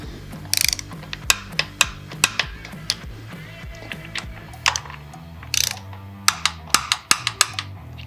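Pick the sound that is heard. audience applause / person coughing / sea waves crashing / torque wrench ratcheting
torque wrench ratcheting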